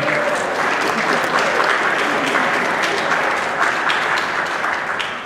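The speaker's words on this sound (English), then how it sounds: "The band should applaud you." Sustained applause at a scholarship concert, thick continuous clapping from the audience and band that stays loud and steady before easing slightly at the end.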